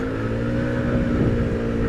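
A Royal Alloy GT125 scooter fitted with Dr. Pulley sliders pulls away from a standing start on the road, its engine a loud, continuous buzzing drone that climbs in pitch as the revs build, with no talk over it.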